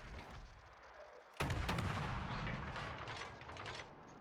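Warship guns fire in a naval video game, a sudden heavy booming salvo with crackling echoes rolling off over a few seconds, loud against a low background rumble.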